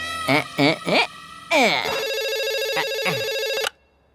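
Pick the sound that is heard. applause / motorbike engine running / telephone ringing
telephone ringing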